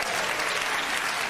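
A theatre audience at the Royal Variety Show gives a loud, dense round of applause that holds steady throughout without a break.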